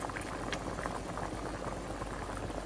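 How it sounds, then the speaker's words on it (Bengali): Lentil dal, cooked with chicken bones and liver, simmers in a pot, giving a steady, soft, continuous bubbling that stays fairly quiet and even from start to finish. "আমার দেখি ডালটা সিদ্ধ হচ্ছে কিনা"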